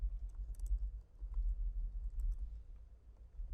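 Close keyboard typing as an HTML paragraph tag is entered, a few scattered light clicks over a low hum.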